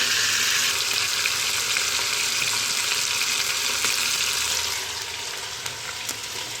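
Chicken pieces fry in a pan for nihari, giving a dense, close hiss of sizzling oil that holds steady and then eases slightly toward the end, with no talking.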